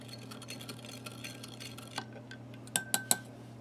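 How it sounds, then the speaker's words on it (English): A metal spoon clinks against a container while stirring powdered MRE drink mix into water, giving soft scattered taps followed by several sharper, louder clinks near the end, heard alone. "Give that a mix with our spoon."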